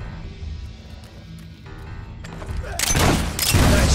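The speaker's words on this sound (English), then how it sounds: "They're shooting up!" Gunfire during a battle in the Fable 3 video game: a quiet, low humming backdrop gives way to a sudden burst of loud, close shots and crackling volleys in the last second or so.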